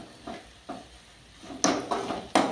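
Egg curry with salt, chili powder and garlic chili powder is stirred in a pan, producing a few short scraping strokes, faint at first, then three louder close scrapes with light sizzling.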